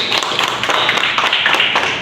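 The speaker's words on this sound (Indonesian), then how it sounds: "Tepuk tangan dulu untuk Sari." Audience applause for a presenter during a university teaching session, a loud, close burst of many hands clapping in a dense, steady patter that carries on without pause.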